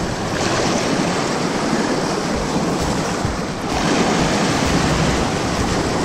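Sea waves break and foam near a sheepshead fishing spot, making a continuous rushing wash of surf with some wind noise, steady and fairly loud.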